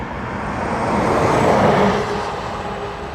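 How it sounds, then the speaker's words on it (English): A Lufthansa airliner departs Dublin Airport for Frankfurt, its engines a loud, broad roar that swells and then eases slightly, with no voices over it. "Lufthansa to Frankfurt as well."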